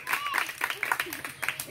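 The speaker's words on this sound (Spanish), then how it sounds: "Aplausos para la número dos." Grandmothers in a contest applaud for contestant number two, with scattered hand claps rising in bursts under and between several talking voices.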